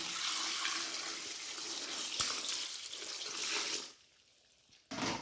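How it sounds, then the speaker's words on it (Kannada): Water pours steadily with a broad splashing hiss for about four seconds, then stops abruptly; a brief burst returns near the end. "ನೀರು ಹಾಕ್ತಾ ಇದ್ದೇನೆ."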